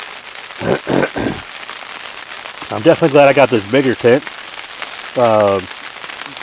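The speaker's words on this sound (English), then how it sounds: "It was actually sprinkling there for a moment." Light rain patters steadily on a large tent pitched at a snowy campsite in Pennsylvania, a soft, continuous crackle close overhead while someone talks in short bursts beneath it.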